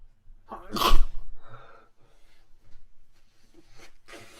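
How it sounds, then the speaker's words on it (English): A single sharp sneeze bursts out near the start, followed by a few quiet rustles and breaths. "I need to sneeze."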